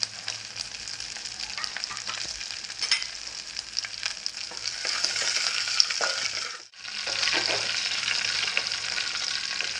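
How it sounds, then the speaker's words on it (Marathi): Mustard seeds, garlic, cumin, chopped chilli and curry leaves crackle and sizzle loudly in hot oil for tempering. The popping stays dense and continuous, then dips briefly and comes back just as strong. "हे तडतडलं की आपल्याला फोडणीला घालायचं आहे"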